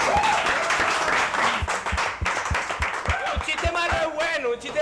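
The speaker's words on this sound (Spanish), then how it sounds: "Un aplauso para Iván." A studio audience applauds the comedian Iván Aristiguieta at a live stream show: loud clapping and cheering mixed with voices and music, while a regular thumping beat runs underneath.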